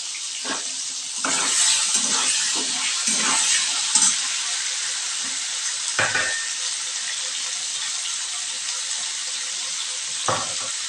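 Potatoes fry in a pan with a loud, steady sizzle. Short bursts of stirring and scraping break in every few seconds, and quieter speech is faintly audible in places.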